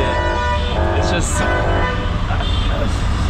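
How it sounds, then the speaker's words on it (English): Car horns honk repeatedly in dense Dhaka traffic, heard from a rickshaw, with short toots over a constant rumble of engines and road noise while people talk nearby. "so much honking and everything."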